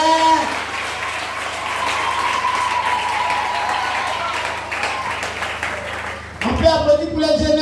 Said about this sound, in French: Est-ce qu'on peut applaudir pour les grands de demain?